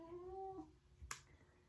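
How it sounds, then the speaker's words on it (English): A cat gives a drawn-out, tonal growl that breaks off, followed by a brief sharp noise; quiet, fairly close, with no talking. "Confirmation growl from my other cat."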